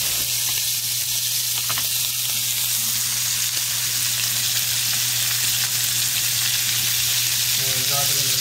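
Butter melts and sizzles loudly in a pan beside a Wagyu steak, a dense unbroken hiss and crackle up close for the whole stretch, with a faint steady hum beneath and no talking.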